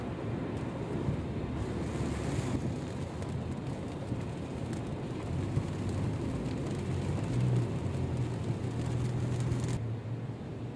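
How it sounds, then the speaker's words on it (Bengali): Steady, heavy rain falls in Arabia, a dense continuous wash of noise with a low rumbling undertone and gusty wind noise. No voices are heard. "তো আজকে সকালে অব্যাহত বৃষ্টি হইতেছে।"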